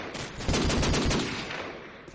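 Rapid bursts of gunfire during a Counter-Strike match, dense overlapping shots crackling loudly for about two seconds with no talk over them.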